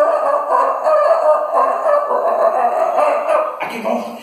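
A person vocally imitates a chicken, with loud, close, continuous clucking and crowing-like squawks that carry over several seconds with no other sounds.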